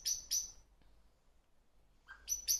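A blackbird perched up high lets out sharp, high chattering alarm calls, two quick bursts at the start and two more at the end, close and clear, with quiet between them.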